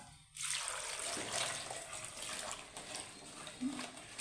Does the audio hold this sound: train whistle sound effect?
no